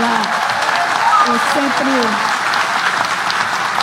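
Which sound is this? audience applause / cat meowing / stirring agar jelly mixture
audience applause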